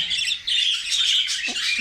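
Pigeon chicks peep in thin, high, continuous cheeping calls, close by and fairly loud, with a short low bump near the end.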